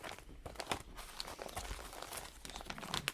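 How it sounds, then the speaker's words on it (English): Plastic sleeves of a CD binder crinkling and flapping as pages are flipped quickly, a busy run of rustles and soft clicks close by. "Everyone knows the sounds of the CD binder."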